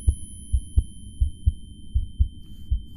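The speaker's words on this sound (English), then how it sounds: "That heartbeat." A heartbeat sound effect from a VR film thumps in a steady double-beat rhythm, low and loud, about ten beats repeating alone without talk.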